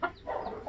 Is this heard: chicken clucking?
yes